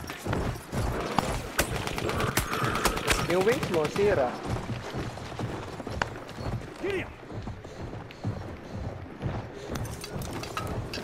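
A horse gallops through a battlefield in the video game Battlefield 1, its hoofbeats mixed with heavy gunfire and explosions while players talk excitedly over the noise.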